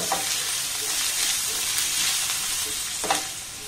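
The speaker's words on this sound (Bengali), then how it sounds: "এবার পেঁয়াজ আর লঙ্কাটাকে একটু হালকা করে নাড়াচাড়া করে ভেজে নেব।" Chopped onion and green chilli sizzle steadily in hot oil as they are stirred in a pan for an egg paratha, with a continuous close frying hiss, a brief utensil scrape near the end, and no talking.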